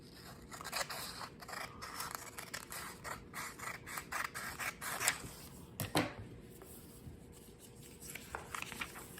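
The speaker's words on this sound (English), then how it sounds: "I'm gonna cut this part right off, turning my rectangle into a square" Scissors snip and slide through paper, trimming a rectangle down to a square for a snowflake, in a series of close, crisp cuts with short pauses between them, heard on their own without talk.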